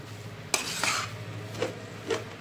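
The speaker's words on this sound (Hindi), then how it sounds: "आपको दाल को लगातार चलाते रहना है" A spoon stirs mung dal halwa in ghee in a pan, giving a few distinct metallic scrapes and clinks against the pan over a low steady hum.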